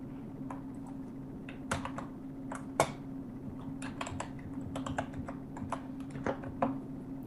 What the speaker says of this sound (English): Sorry, that was me typing for a sec.